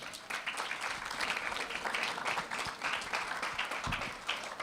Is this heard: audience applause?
yes